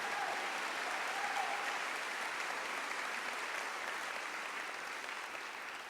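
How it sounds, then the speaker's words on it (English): An audience applauds an organist after a Forbes pipe organ performance at a college fall conference, sustained dense clapping filling the hall and slowly tapering off near the end. "Let's give Paul Woodring another round of applause."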